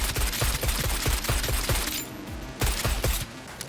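Rapid automatic gunfire aimed at a car in Cyberpunk 2077, a loud steady stream of shots with sharp glassy impacts and shattering, briefly pausing then resuming in short bursts, with no talking.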